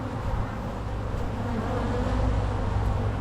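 Honeybees hum around a queen cage inside a hive while a walk-away split is made, a steady close drone that holds for the whole stretch with no talking over it.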